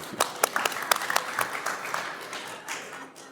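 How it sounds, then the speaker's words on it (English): A live-show audience clapping hands, scattered individual claps at first, thinning into a softer patter; fairly close and modest in size. "just clap your hands."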